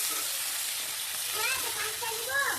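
Pumpkin sizzles steadily in hot oil with well-browned garlic for a rohu fish curry, a continuous close frying hiss with a faint voice under it.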